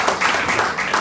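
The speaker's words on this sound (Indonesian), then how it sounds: "Beri tepuk tangan dulu bagi Allah." Church congregation at a Sunday worship service clapping their hands together, a dense, even burst of applause filling the whole short moment.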